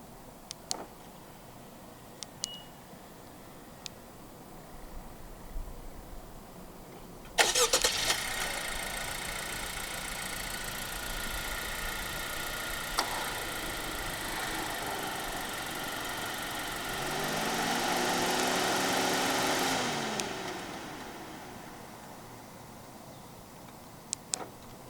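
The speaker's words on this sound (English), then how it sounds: "The 10th generation Accord in Malaysia does come standard with a remote engine start system." A 2021 Honda Accord 1.5 TC starts by remote with a sudden turnover and settles into a steady, quiet idle. The engine note swells briefly later before easing off, with faint ticks before the start.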